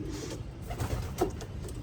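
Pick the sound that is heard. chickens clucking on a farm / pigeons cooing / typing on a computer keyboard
pigeons cooing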